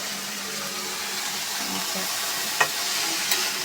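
Food frying in a pan while a child stirs, a steady close hiss of oil with a couple of brief clinks from the pan.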